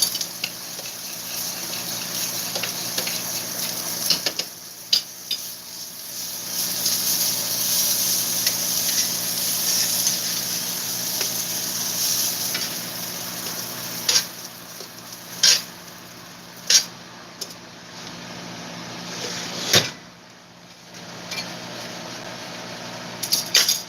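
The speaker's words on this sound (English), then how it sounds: "We're just gonna let them simmer nice and slow" Buttermilk meatballs with pancetta and fennel simmer slowly in sauce in a pan, making a continuous soft bubbling hiss. Occasional sharp pops and light clinks of the pan break through now and then. No voices are heard.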